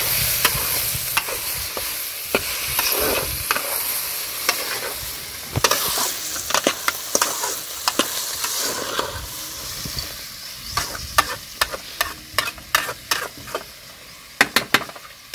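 A village-style cowpea curry being stirred in a pan, soft sizzling and hiss under a run of clattering spoon scrapes and taps that grow quicker and sharper toward the end, close up with no talk.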